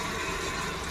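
Water poured onto potted plants on a rooftop in the evening gives a steady, close, continuous splashing gush with no voices.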